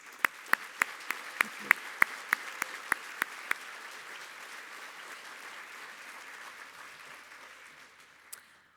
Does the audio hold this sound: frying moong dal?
no